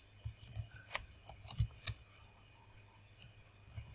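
Keys clicking on a computer keyboard while a web page file is edited, a quiet, irregular run of light taps and a few sharper clicks spread over a few seconds, with no talking.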